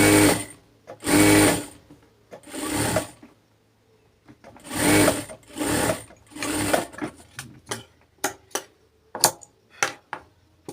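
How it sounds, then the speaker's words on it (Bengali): A sewing machine double-stitches a plazo sleeve in several longer runs followed by quick short bursts, close and clear, with no speech. "এরপরে ডাবল সেলাই দিয়ে"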